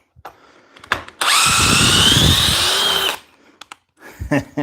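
A cordless drill on an 8 amp hour battery spins up hard and runs loud and steady for about two seconds, set between short bursts of clattering handling noise.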